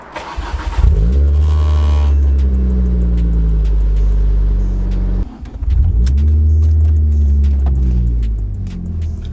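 A car engine cranks and fires, settles into a steady idle, then stops briefly and restarts before running smoothly again, loud and close with no talking.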